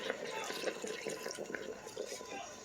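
A cup of water splashing and trickling into an Instant Pot, a soft steady pour with faint drips, fairly quiet and close.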